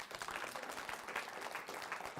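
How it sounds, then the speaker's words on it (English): Audience applause at a comedy magic show, a dense, steady patter of many hands clapping together, quite faint and distant throughout. "Give her a round of applause, guys."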